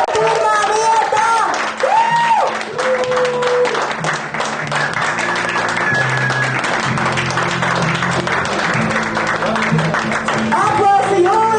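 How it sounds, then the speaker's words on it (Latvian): Applause for the winner of a staff billiards tournament, steady clapping from a gathered crowd across the whole stretch, with an announcer speaking over it. "Aplausi Jūlijai"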